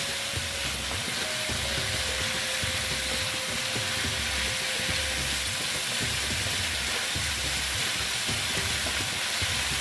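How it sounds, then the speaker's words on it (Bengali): Pumpkin curry with green chillies and boiled chickpeas sautéing in a pan, a steady close sizzle and hiss running continuously with faint scraping stirs underneath, no voices. "তারপরে দিলাম কাঁচা লঙ্কা দিয়ে এবার আমি আর একটু ভালো মতন কষিয়ে নিচ্ছি"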